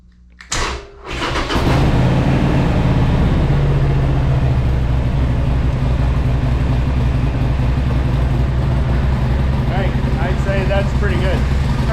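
A Harley-Davidson Sportster motorcycle cranks briefly, then its engine catches and settles into a loud, steady idle that rumbles on close by without letup.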